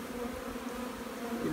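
Honey bees buzz steadily in a hive, a close, dense drone, a constant hum with no voices.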